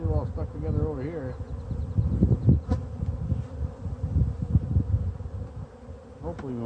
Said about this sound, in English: See, there's the bees with the pollen on them.